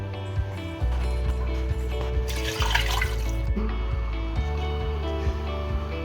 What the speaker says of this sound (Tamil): இதுக்கு 2 டம்ளர் தண்ணி ஊற்றிக்கிறேன்